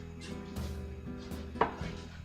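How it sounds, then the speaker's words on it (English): Cherry tomatoes being cut in half with a sharp knife on a board: a few soft, separate cuts and knocks, quiet and close, with one slightly sharper tap. No talking. "now I'm just going to slice them in half"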